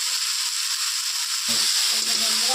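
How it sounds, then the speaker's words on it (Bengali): Spice paste for pabda fish curry frying in a pan with cloves, bay leaf, garlic paste and turmeric, a steady close hiss and sizzle with someone talking over it. "মশলাটা সুন্দর করে কষাই নিই।"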